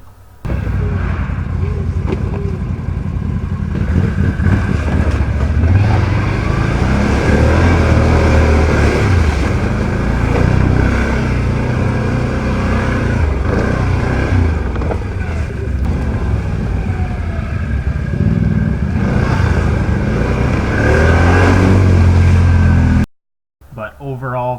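A 2020 Can-Am Outlander 650 XT ATV on stock 26-inch tires churns through mud, its engine droning loud and continuous with rising and falling revs under heavy wind buffeting, then cutting off abruptly near the end.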